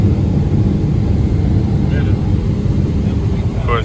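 A helicopter lands in Sydney, its heavy engine and rotor noise a constant low roar that fills the moment without a break.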